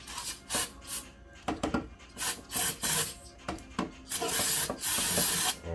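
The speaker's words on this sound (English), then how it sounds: "I'm gonna take a little brake parts cleaner and hit around there" Brake parts cleaner sprayed from an aerosol can onto an engine part during thermostat replacement on a 2008–2010 Volkswagen Routan 4.0L: several close hissing bursts of varying length, the last one long and steady, with no talking.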